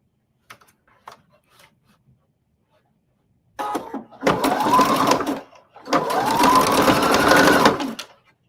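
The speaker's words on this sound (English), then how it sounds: "I did a back stitch that time because sometimes when I do the lock stitch" A sewing machine back stitching a denim corset runs in two long, loud bursts of steady mechanical whirring, each lasting a couple of seconds, after a few quiet clicks and taps.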